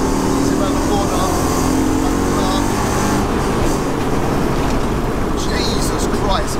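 A 400 bhp Mercedes C43 AMG track car with a swapped 5.5 engine pulls hard out of a corner, its loud, raw roar continuous and close, heard from inside the car.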